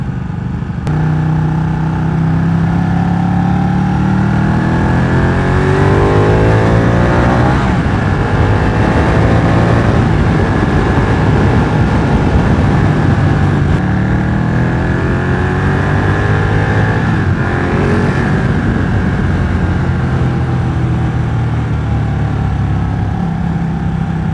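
A Ducati 1199 Panigale motorcycle accelerates on open road, its engine note climbing in rising sweeps through gear changes, loud and close with wind noise and no talk.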